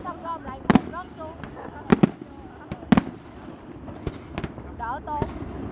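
Fireworks at the 2015 Dalat flower festival pop and crack in several sharp bursts, a few close together, heard under a person talking over steady crowd noise.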